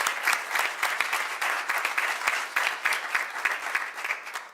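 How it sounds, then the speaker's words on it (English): Audience applause at an annual business conference, steady and fairly loud clapping from a crowd with distinct individual claps, sustained without talk. "a big round of applause for Valerie"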